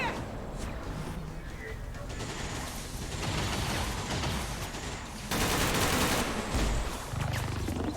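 Gunfire in the video game XCOM 2, heard as dense bursts of shots and rattling noise that turn louder and harsher near the end, with some speech mixed in.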